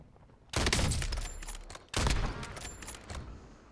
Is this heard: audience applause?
no